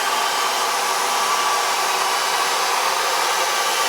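A Bissell carpet cleaner sucks up OxiClean cleaning solution from carpet, giving a loud, steady, continuous motor and suction roar held close throughout, with no voices.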